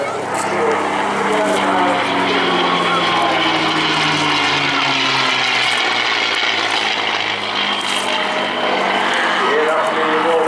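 A North American P-51D Mustang warbird flies at the Eastbourne Airshow, its piston engine and propeller giving a loud, sustained roar with a slowly falling pitch as it passes, with a commentator's voice under the noise.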